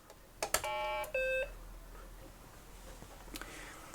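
Two steady electronic beeps from a BBC Micro Model B computer with a co-processor add-on, the first longer and the second shorter, preceded by faint clicks, with quiet room noise afterward.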